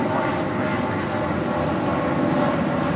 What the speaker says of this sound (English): JetBlue Airways Flight 1373 coming in from Newark at that A321